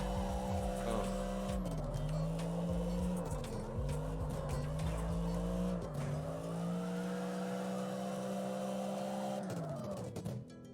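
A Holden Ute, the Raven R8 Maloo, drifts in CarX Drift Racing, its engine droning loud and steady while the pitch dips and climbs through repeated slides, then eases off and falls away near the end.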